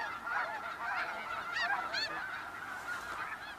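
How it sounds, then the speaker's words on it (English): A flock of Arctic geese honking repeatedly in the wild Russian tundra, overlapping loud nasal calls in a continuous chorus, fairly close and with no talking. "The geese keep a sharp eye out."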